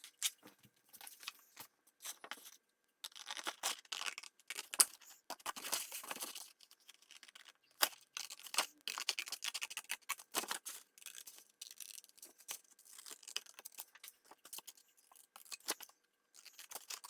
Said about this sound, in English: I'm just going to go ahead and use scissors.